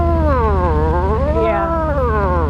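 A Harley-Davidson V-twin motorcycle engine burbles loud and close, with a steady throbbing pulse under a droning whine that rises and falls in pitch.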